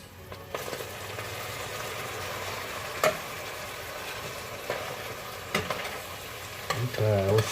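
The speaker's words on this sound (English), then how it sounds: "Okay, we'll stir it around." A spoon stirs a chunky meat and vegetable soup in a pot, scraping and clanking now and then over a soft continuous sizzle, close and fairly quiet.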